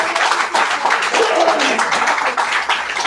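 A church congregation gives hearty applause, with fast, uneven hand claps mixed with scattered voices and whoops. The sound is loud and close throughout.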